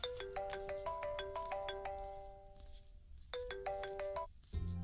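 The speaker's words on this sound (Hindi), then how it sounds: "रामू चाचा का फोन है, अगर बात कर लो।" A phone ringtone for an incoming call plays a bright repeating melodic pattern of chiming notes, pausing briefly before starting again, followed by a low thud at the end; moderately quiet, with no talk.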